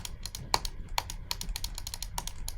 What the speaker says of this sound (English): So this is me typing and talking.